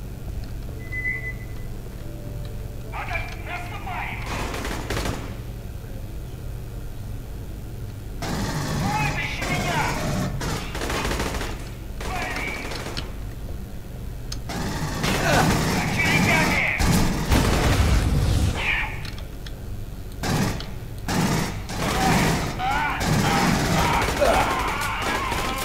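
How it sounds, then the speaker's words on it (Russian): Rifle fire in the video game Aliens: Colonial Marines comes in repeated loud bursts and single shots, mixed with booms and game noise, with someone talking between volleys. "Хорошая пушка Рипли."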